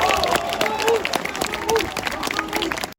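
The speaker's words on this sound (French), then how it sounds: "Vous pouvez l'applaudir." Crowd applause at a French political rally against health restrictions, a brisk spread of many hands clapping with scattered cheers and murmuring voices mixed in, fairly close and steady for a few seconds.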